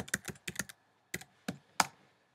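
Seven short, crisp keystrokes on a computer keyboard, tapped close and fairly soft in small irregular clusters with brief pauses, alone in a quiet room.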